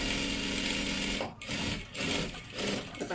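A sewing machine stitching a dress runs in steady, loud mechanical rattling bursts, pausing briefly three times as the fabric is guided, with no voices.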